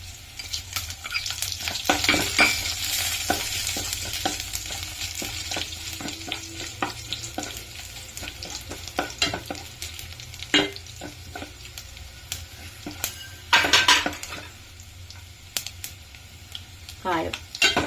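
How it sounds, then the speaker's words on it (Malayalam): Chili powder, mustard seeds and onion frying and being stirred in a pan for Kerala tomato rasam, a steady close sizzle with scraping stir strokes and utensil clinks, with some talk over it. "ഇതെല്ലാം കൂടെ ഒന്ന് ചെറുതായിട്ട് മൂത്ത് വരും."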